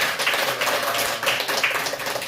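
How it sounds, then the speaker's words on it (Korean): Listeners at a Buddhist lay college lecture in Geoje give a brief round of clapping, a quick cluster of sharp, close hand claps with little talk. "박수도 한 방."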